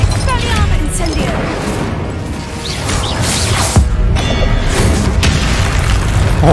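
A Confringo spell explodes in Hogwarts Legacy with loud booming blasts and crashing impacts, and whooshing spell effects layer over a dense game soundscape.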